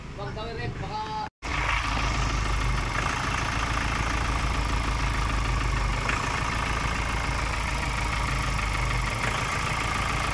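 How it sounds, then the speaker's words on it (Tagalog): A Ford Ranger 2.0 engine idles with fluctuating RPM, a loud, steady mechanical rumble heard up close after a brief cut, with a voice talking over it at the start. "kung mapapakinggan nyo nga yung engine niya, talagang fluctuating yung RPM. Talagang hindi normal yung tunog niya, pati yung andar niya"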